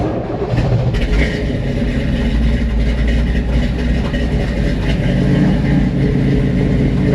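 A Chevrolet C10 pickup truck engine with a cold case radiator and SPAL fan fires up and settles into a steady, loud, low rumbling idle at choke speed, heard close up.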